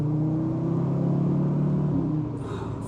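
A five-cylinder car engine drones close by with a deep, throbbing hum that swells slightly and then eases off, steady throughout with no talking.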